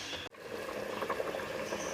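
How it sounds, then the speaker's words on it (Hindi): Rice water coming to a boil in a cooking pot for dal chawal, a soft, continuous bubbling and hissing with faint liquid trickles, quiet and close, after a brief dropout near the start. "चावल के पानी में उबाल आ गया है।"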